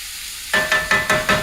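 A taco skillet mixture seasoned with roasted garlic powder is stirred in a hot one-pot pan, with five quick, even scraping strokes over a steady, close sizzle.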